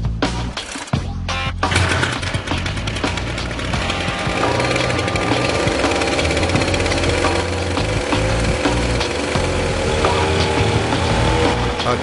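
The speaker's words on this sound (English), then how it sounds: "The new weed whacker is actually working fine. It's whacking away." A weed whacker engine drives a fan propeller, buzzing loudly and steadily after a brief rough start, a harsh continuous two-stroke drone close by.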